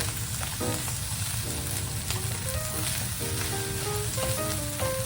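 Bacon sizzles loudly as it is stirred back into a pan of fried rice, a dense, steady frying crackle throughout with faint tonal background sounds.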